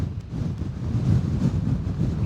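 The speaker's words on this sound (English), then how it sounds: "Super windy." Strong wind during Hurricane Hilary roaring steadily against the microphone outdoors, a dense continuous low rumble with no other sounds.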